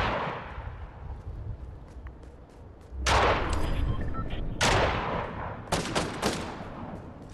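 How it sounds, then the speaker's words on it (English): Gunfire in the video game Fortnite, with loud sharp bursts of shots and rapid volleys arriving in clusters over low background game noise. "Where are you shooting at?"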